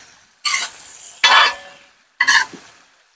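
Chow mein ingredients with cabbage are stirred and fried in a pan over a village cooking fire. Three loud, separate bursts of sizzling scrape up as the food is tossed, with quiet gaps between them.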